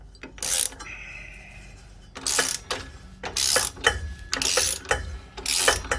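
Clicking ratchet-like bursts while an M12 bolt is tightened with a 19 spanner on a Suzuki Jimny Gen 4 rear axle during an Old Man Emu lift kit fitment; several short, close, rhythmic bursts separated by brief pauses.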